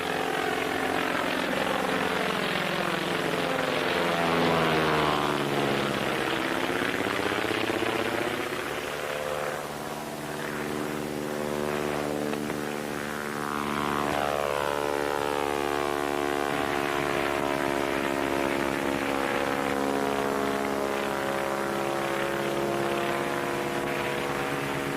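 Propeller plane engine in flight during a deliberate stall demonstration, a droning motor with sweeping harmonic pitch shifts as the aircraft changes attitude, sustained and fairly near throughout.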